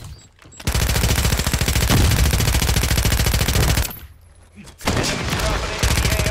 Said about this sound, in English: this AMR-9 does a lot of the work for me